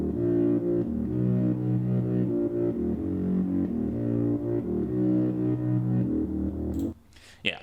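Synth bass line processed with a sidechain compressor, rendered as a sustained pumping tone that swells and ducks in a steady rhythm, loud and alone for most of its length before cutting off near the end.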